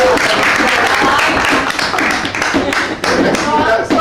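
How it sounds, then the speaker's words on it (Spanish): An audience at a wine presentation bursts into loud, dense applause, close and sustained clapping with voices mixed in underneath. "yo creo que merece un aplauso."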